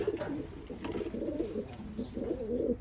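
Teddy pigeons in a breeding loft in Oman coo in a continuous low warbling chorus, close and moderately loud.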